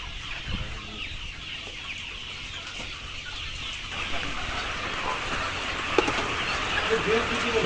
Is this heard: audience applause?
no